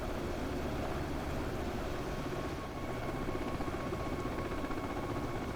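A UH-60 Black Hawk helicopter flies in a flight simulator, its rotor and turbine giving a steady, dense, even drone that stays loud and unchanged throughout, with no voices.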